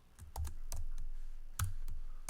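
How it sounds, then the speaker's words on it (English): Short bursts of keystrokes clatter on a computer keyboard as words are typed, a few quick irregular clusters heard up close in a quiet room. "next I'm gonna type the words"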